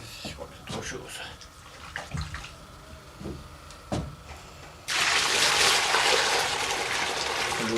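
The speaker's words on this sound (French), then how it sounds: "De l'eau salée." Salted water is poured for bread dough on a farm in 1977. Softer handling noises and talk come first, then a loud, steady rushing pour of water takes over for the last few seconds.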